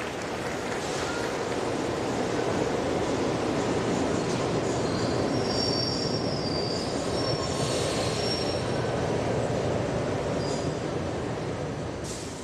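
An old train departs with a continuous heavy rolling rumble and a high, drawn-out wheel squeal rising over it, steady and fairly close throughout.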